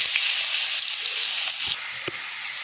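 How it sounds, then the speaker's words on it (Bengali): Onions frying in hot mustard-style cooking oil left over from frying fish, with black cumin and dried chili, give a loud, steady, close-up sizzle throughout, with a couple of soft knocks near the end. "ভাজা ভাজা হয়ে গেছে পেঁয়াজটা"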